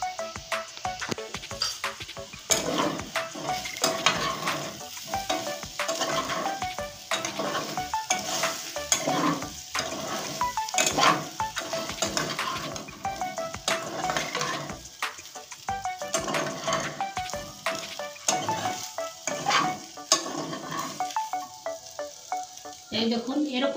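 Taro sizzles in a pan with chili powder for a taro and fish-head curry as a spatula stirs and scrapes in a quick, continuous rhythm, close and busy over steady frying hiss.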